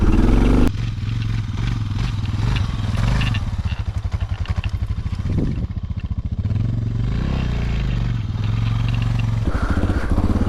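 A 2023 Suzuki DR650 thumps and revs off-road in the dirt and mud, with a steady near engine drone, a dip as the throttle eases midway, and clattering and scraping over rough ground.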